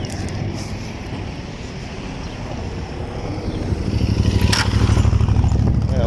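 A motorcycle engine drones nearby and grows louder and rougher toward the end as it draws closer, heard over steady traffic noise.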